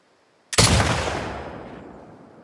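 A single loud gunshot from The Last of Us Part II rings out after a brief silence, fired at a red sign, its sharp crack trailing off in a long, fading echo.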